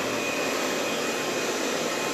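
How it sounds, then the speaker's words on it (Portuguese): Hair dryer on its hot setting blows in a constant, loud, broadband whoosh with a faint steady whine, used while brushing hair after a haircut. "Secador no frio não faz escova. Aqui é no quente."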